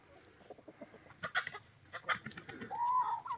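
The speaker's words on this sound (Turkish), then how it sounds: "Baksanıza bu horoz" A rooster crows inside a village chicken coop among hens, with quiet clucks and scattered bird calls leading into a clear drawn-out crow near the end.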